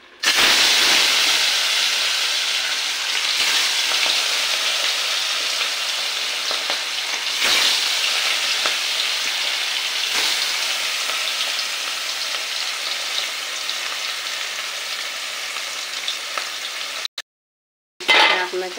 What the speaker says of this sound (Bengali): এবার আমি মাছগুলো এক এক করে তেলে ছেড়ে দেবো